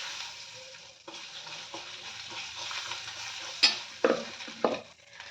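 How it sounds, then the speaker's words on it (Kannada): A spoon stirs and mixes chitranna rice with peanuts in a pan, a steady soft scraping and sizzling with a few sharper clinks of the utensil against the pan near the end, and no talking. "ಒಂದೇ ಒಂದು ಸಲ ಕಲಿಸ್ಕೊಳ್ಳೋದು"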